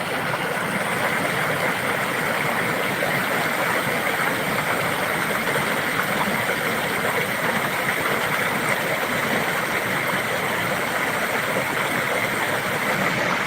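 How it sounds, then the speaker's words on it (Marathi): Floodwater rushes strongly after heavy overnight rain, a steady, loud, broadband roar that continues without a pause, with no voices over it. "खूपच पाऊस झाला पाणी खूप वाहतं येते"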